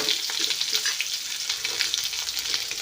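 Chopped onions sizzle and crackle in hot oil with curry leaves in a village kitchen pan, a close, bright steady frying hiss with small popping bursts and light stirring.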